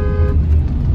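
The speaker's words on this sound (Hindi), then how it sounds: "हॉर्न सुनो" A car horn sounds briefly from outside a quiet Audi cabin: a muffled, steady tone lasting about a third of a second over a low road rumble that continues after it stops.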